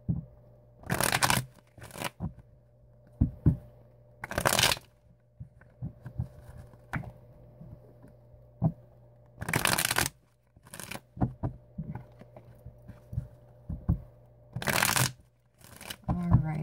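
Tarot cards are shuffled close by in repeated sharp riffling bursts, separated by quieter stretches of soft card handling.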